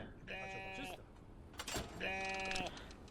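Goats bleat in two long, wavering calls separated by a short clattering noise, set in the Contraband Police border checkpoint game, with someone talking over the scene.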